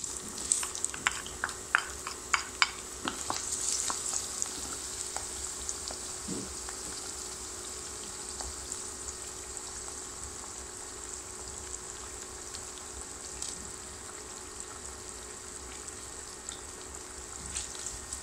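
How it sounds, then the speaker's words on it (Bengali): Onion, garlic and dried chili fry in hot oil in a pan, a continuous close sizzle with clinks of stirring early on, steady and unbroken for the full stretch with no voices. "পেঁয়াজটা ভাজতেছে"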